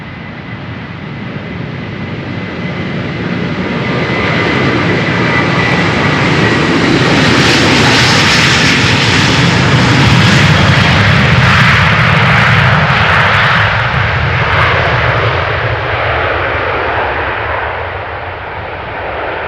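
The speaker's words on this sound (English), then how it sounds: "Okay, spooling up, another step in the process of taking off. Going to takeoff thrust," A jet airliner at Amsterdam Schiphol spools up to takeoff thrust. Its loud broadband roar swells steadily to a peak midway, then eases slightly as the aircraft rolls away, with no voices present.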